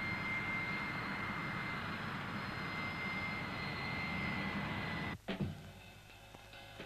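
A Rolls-Royce M45H turbofan jet engine runs with a loud, steady roar and a high whine held for about five seconds, then cuts off abruptly, leaving faint scattered noises.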